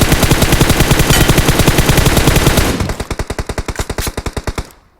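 Rapid automatic gunfire in PUBG, a continuous loud burst of evenly spaced shots that thins into separate distinct cracks before stopping.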